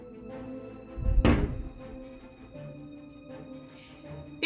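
A door shuts with a single heavy thud in an indoor domestic scene, followed by faint room noise and a soft knock near the end.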